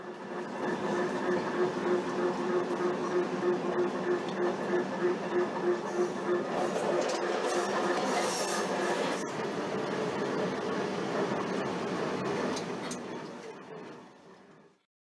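An electric train runs on the Brussels–Tervuren railway line, producing a steady rolling rumble with a faint sustained whine throughout. The sound holds even for most of the clip, then fades out near the end.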